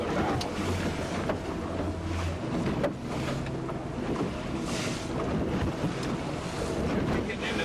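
Fishing boat caught in a bad storm at sea off Alaska, with waves crashing and sloshing against the hull amid heavy wind buffeting the microphone, a loud continuous roar without speech.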